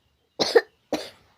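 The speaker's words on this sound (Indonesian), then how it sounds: "Batuk itu teh." A child coughs twice in quick succession, short sharp close bursts with silence around them.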